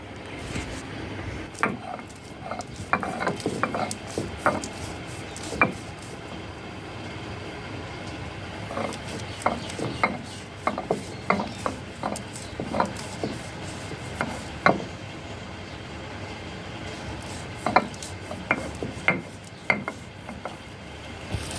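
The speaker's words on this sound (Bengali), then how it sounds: "এখন আমরা এটা পাটায় পিষে নিব" Boiled corn kernels are ground by hand on a stone slab, producing repeated rough rubbing and scraping strokes in an irregular rhythm, close and moderately loud, with no talking.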